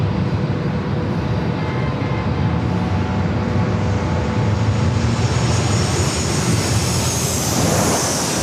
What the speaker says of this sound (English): That Japan Airlines Dreamliner 787-8 Dreamliner making its way over here to runway 27.